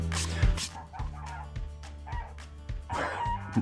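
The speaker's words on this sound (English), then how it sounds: "Damn geese." Geese honk outdoors at a middle distance, several rough calls scattered over a steady low background hum.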